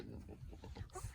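Pigs grunt and snort in a quick series of low, rough oinks close by on a livestock farm.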